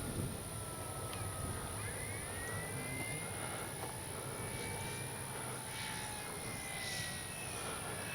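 A FLEX RV-8 60E G2 electric RC airplane flies at a distance, a faint steady whine and hum with a high sustained tone running evenly throughout.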